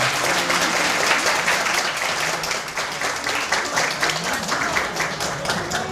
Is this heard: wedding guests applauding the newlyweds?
yes